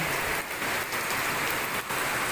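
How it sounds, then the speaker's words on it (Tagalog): Heavy evening rain pours steadily in a dense, constant hiss, with a few brief dips in intensity, no voices. "Ang lakas ng ulan."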